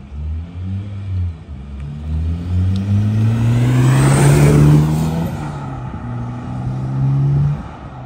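V8-swapped Chevrolet Colorado pickup with a valved exhaust revving up and down several times, a deep rising and falling engine roar close by with a brief higher whoosh at the peak, no talking.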